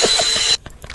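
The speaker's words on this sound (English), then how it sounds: "Please stand by as you hear the vacuum." A vacuum effect from the game Trouble in Terrorist Town gives a loud, harsh mechanical whir that cuts off abruptly after half a second, leaving faint rattling clicks.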